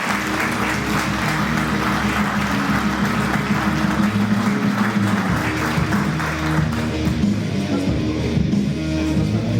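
Audience applause greets a speaker at a FuckUp Nights event in Oradea, a steady clapping wash blended with tonal background music that thins toward the end.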